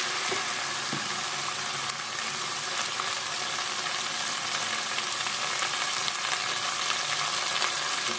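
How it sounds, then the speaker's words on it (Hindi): Ginger garlic paste frying in hot oil for a chicken korma, a steady, moderately quiet sizzle that runs continuously with no talking. "अदरक लहसुन का पेस्ट तेल में अच्छे से फ्राई करेंगे।"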